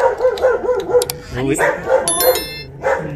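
A dog barks in short yips and bow-wows outdoors beside a house, several quick barks close by while a person speaks over them.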